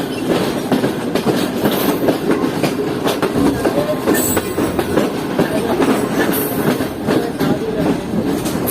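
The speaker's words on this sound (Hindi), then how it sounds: "और हमारी ट्रेन इस वक्त बढ़ रही है मेन लाइन 1 पर।" The Karakoram Express rolls along main line 1 in Pakistan, a continuous close rumble with rhythmic clickety-clack of wheels over rail joints and occasional brief high squeals.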